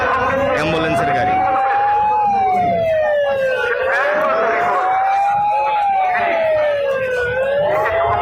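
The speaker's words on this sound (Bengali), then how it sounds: "এটা অসুস্থ হয়েছে মনে হয় কোনো একটা অ্যাম্বুলেন্সের গাড়ি" An ambulance siren wails in a slow rising and falling sweep, loud and close, over crowd noise at Shahjalal International Airport, with people talking underneath.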